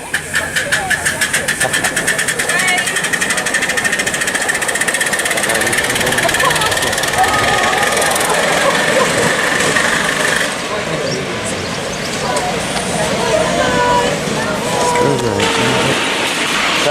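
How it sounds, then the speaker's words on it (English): A Class 20 miniature electric locomotive runs steadily on a miniature railway, giving a continuous whirring rumble with rhythmic clicking close by, while people talk over it throughout. "Miniature Railway Class 20 Miniature Electrical Locomotive"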